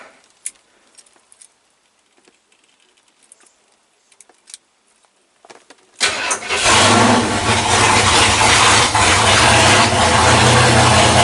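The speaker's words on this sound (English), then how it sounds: "Let's get the key in the ignition." A car engine fitted with a Holley carburetor cranks and fires with the ignition key after a few quiet clicks and rustles, then settles into a loud, steady running roar close by.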